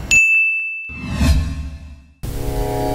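A bright bell-icon notification ding rings out once, sharp and sustained as it fades, then a swoosh and a clanging chime follow; loud, close and with no talk.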